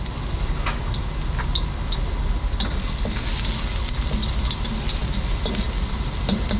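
Garlic frying in a pan for a sardine and patola dish, with a dense, continuous close sizzle and scattered crackles and pops.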